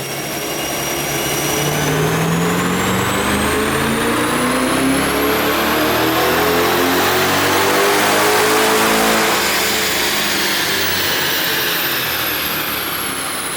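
A 2020 Chevrolet Corvette Z51 fitted with a ProCharger Stage 2 supercharger and P1X head unit revs hard on a dyno, its engine climbing steadily into a loud, sustained wail with a rising supercharger whine, then easing off near the end.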